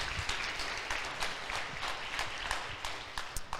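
A church congregation applauds during a worship service, with fairly quiet, rhythmic clapping from a group that pulses unevenly throughout.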